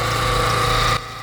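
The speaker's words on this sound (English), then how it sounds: "the engine has started. It started relatively easy, but you can see it a misfire." An abandoned Nissan's engine runs loud and rough close by, its uneven idle stumbling with a misfire before the sound cuts off abruptly.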